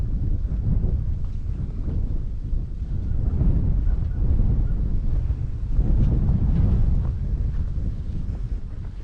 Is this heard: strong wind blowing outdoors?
yes